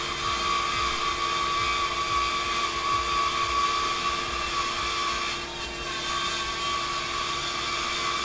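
A DIY CNC mill cuts into wood with a steady, high-pitched whine and grinding buzz that runs continuously at close range, dipping briefly before resuming.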